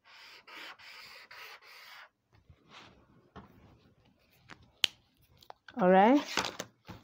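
Scissors cut through fabric or paper for a princess-panel jacket pattern piece, giving a series of rhythmic crisp snips close by, followed by scattered handling noises and a brief voice.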